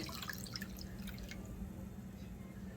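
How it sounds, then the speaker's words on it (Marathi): Water poured from a small metal pot into a cooking pot while making misal, a soft steady splash and trickle heard close by, fairly quiet, with a low continuous hum underneath. "आता आपण इथे दुसऱ्या तांब्या पाण्याचं घालतोय."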